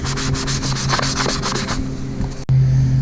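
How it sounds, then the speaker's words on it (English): Rapid, rhythmic scrubbing strokes of a coarse-grit sanding sponge on the metal exterior trim of a 2005 Pontiac Grand Prix, close and loud, stopping abruptly near the end. "go in with a fairly coarse grit sanding sponge and hit all of the remaining edges"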